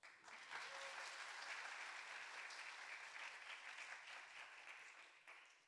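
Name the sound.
congregation applause for the pastor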